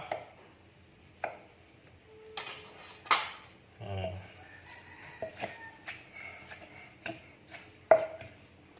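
Wooden pestle and mortar pounding tomatoes for Thai som tam (papaya salad), irregular sharp knocks and clatters with a few louder thuds, spaced about a second apart, close by and without talk.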